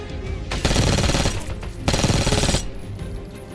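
Rapid automatic gunfire from Call of Duty: Black Ops, two dense loud bursts of machine-gun fire, each lasting about a second, separated by a short pause, with faint background game ambience.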